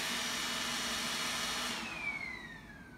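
A Roomba 980 robot vacuum runs with a steady, close whirring hum that dips and winds down toward the end.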